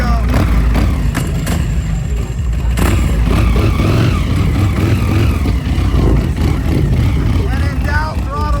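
A custom Gucci-styled chopper motorcycle has its throttle opened after a restart, and its engine roars and revs loudly and close by throughout, with a person's voice also heard over it.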